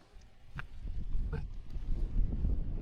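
Gusty winter wind at a rocky seaside cove buffets the microphone with a steady low rumble that builds over a few seconds, broken by a couple of faint clicks.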